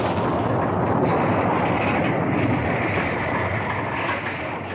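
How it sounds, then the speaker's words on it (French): Animated bomb explosion followed by its shock wave, a sustained loud, dense roar and rumble filling the whole clip before slowly easing off, with no voices. "La puissance de cette bombe est vraiment terrifiante."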